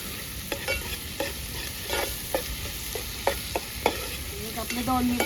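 Garlic paste frying and stirred in a pan on a wood-fired stove for Agri-style chicken curry, a steady sizzle broken by scraping spoon strokes and clinks at close range, no talking.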